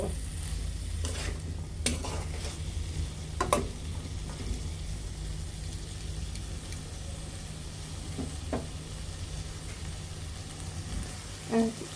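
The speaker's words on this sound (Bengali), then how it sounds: "মলা মাছগুলো এখন আমরা এর মাঝে দিয়ে দিব এখন খুব আলতোভাবে মাছগুলো উল্টিয়ে পাল্টিয়ে নিব" Small mola fish coated in turmeric and chilli powder fry in a pan with a steady close sizzle, broken by occasional scrapes and clinks as they are gently turned over. Nobody speaks.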